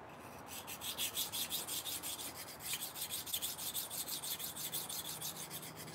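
Hand sanding with 250 grit sandpaper gives a steady, quiet, rhythmic rasping rub that runs continuously at close range with no talking.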